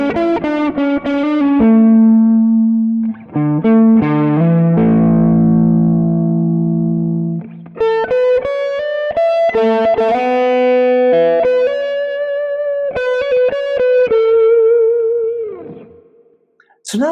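Clean electric guitar through a captured Two-Rock Malibu low-gain amp, neck pickup in humbucker mode, with a warm, slightly muffled tone playing chords and single-note runs, with sustained ringing notes and a vibrato-laden phrase near the end.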